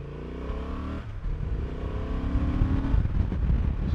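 A Honda Transalp motorcycle engine runs at low revs on the road, a steady close drone with shifting pitch and a rough, rising rumble blended with wind noise.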